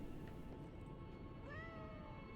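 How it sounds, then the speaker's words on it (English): A cat in the video game Lies of P gives a rising, drawn-out meow over a steady low rumble of purring and background game ambience, close and fairly soft. "Oh, he's purring."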